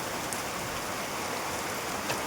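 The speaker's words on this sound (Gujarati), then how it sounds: "જો વરસાદ કેવો પડે" Heavy rain pours down steadily, a dense unbroken hiss of drops hitting the ground nearby, with no voices.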